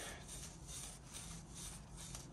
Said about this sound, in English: I'm gonna clean up these interior surfaces where these bearings go and get them shiny again